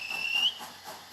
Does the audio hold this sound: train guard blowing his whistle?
yes